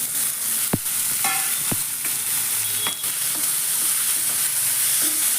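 Chopped onions frying loudly in a pan for paneer bhurji, a dense continuous sizzle with a few sharp clinks and scrapes of a spoon against the metal; no voices.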